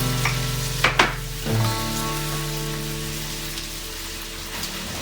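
Tomato, seasoning and beans dropped into a hot pan with sweated garlic and peppers for brisket nachos give a loud burst of sizzling, settling into a steady crackle.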